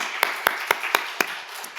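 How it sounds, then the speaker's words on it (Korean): A church youth congregation claps together in praise to God, five sharp, fairly loud claps at an even steady rhythm, then fading into softer scattered claps at the end. "고마우신 하나님께 영광의 박수 한번 치겠습니다."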